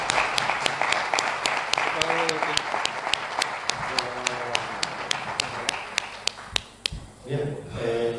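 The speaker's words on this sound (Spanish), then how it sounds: "yo por lo menos te aplaudo" Audience applause at the close of a conference talk broadcast on a Seville radio channel, heard as steady clapping with sharp, evenly spaced taps running through it and a voice briefly audible beneath.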